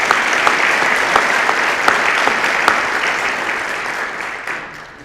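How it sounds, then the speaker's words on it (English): Ceremony audience applauding the physical therapy assistant faculty, full clapping with a few sharp individual claps standing out, gradually fading toward the end. "how about a round of applause for our faculty?"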